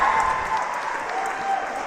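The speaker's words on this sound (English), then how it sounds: "Every successful grab, they're cheering her on." A crowd at a ninja obstacle competition applauds and cheers steadily, a dense wash of clapping and shouts with faint voices mixed in, holding at an even level throughout.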